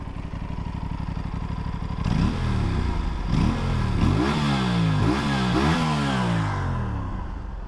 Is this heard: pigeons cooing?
no